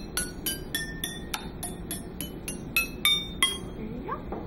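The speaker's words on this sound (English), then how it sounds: "PVC pipe keyboard" A homemade keyboard built from PVC pipes is tapped out note by note, about a dozen bright, ringing, glassy tones in an even run, played close and fairly loud over a low background murmur.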